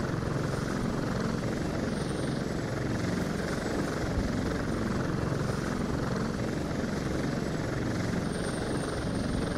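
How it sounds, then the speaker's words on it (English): A damaged helicopter in the video game Prototype 2 flies with a continuous, loud rotor and engine roar, steady and unbroken throughout. "My helicopter is in bad shape"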